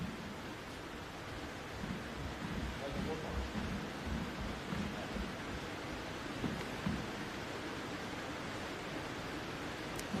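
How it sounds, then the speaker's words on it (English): Heavy rain drums steadily on the roof of a building over an indoor tennis court, with low thunder rumbling beneath the constant hiss. "a couple of rumbles of thunder, and there's some heavy rain now on the top of this building"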